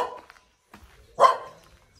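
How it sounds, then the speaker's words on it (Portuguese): Dogs on a rural farm in the Nova Trento countryside give a single short, fairly close bark after a few faint yips and rustles, with quiet stretches between. "Aqui, ó, a cachorrada aqui, ó."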